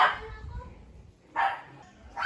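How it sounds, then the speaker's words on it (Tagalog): A dog barks in a few sharp bursts at the start, middle and end, fairly close, with people talking around it. "Nakakatakot yung aso."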